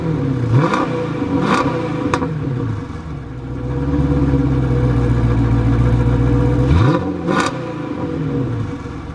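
V8 car with a mid-muffler delete, revving up in loud, close bursts, holding a deep sustained drone and then dropping back down to a rumbling idle.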